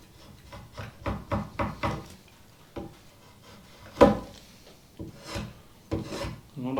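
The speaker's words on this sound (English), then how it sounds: "I just kind of start scraping it just a little bit, just enough to get rid of the majority of that cambium." Scraping cambium off a hickory bow stave, a series of close rasping strokes in an uneven rhythm, some quick and clustered, others spaced apart with a few louder scrapes.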